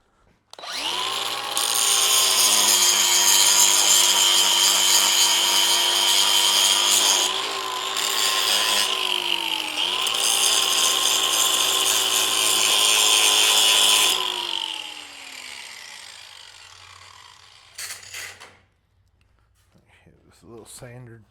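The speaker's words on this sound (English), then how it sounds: "I'll grind off the excess there on top." Angle grinder or similar power tool grinding excess metal off a hand-forged dragon head, a loud continuous whine that dips briefly and then winds down after about fifteen seconds, followed by quieter handling sounds.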